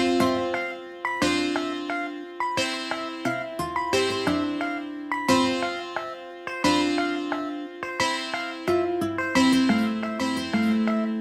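Layered guitars play a plucked melody together, with notes ringing and decaying in a steady repeating pattern, clear and upfront with no voices.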